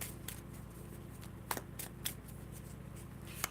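A card drawn from a tarot deck, a few short close papery flicks and snaps over quiet room tone, with no talking.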